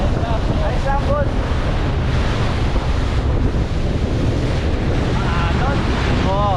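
Steady ocean surf and strong wind buffet the microphone continuously from a boat at sea, loud and unbroken throughout.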